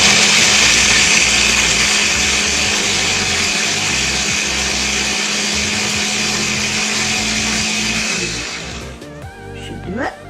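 An electric blender whirs loudly and steadily while blending curry paste, close up, then winds down and stops near the end.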